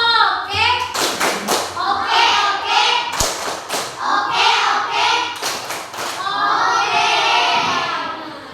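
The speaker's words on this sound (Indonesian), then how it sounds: "Kasih tepuk oke dulu untuk Aska Yudetra." Fifth-grade schoolchildren in a classroom clap a rhythmic group cheer, sharp claps and thumps mixed with their chanting voices throughout.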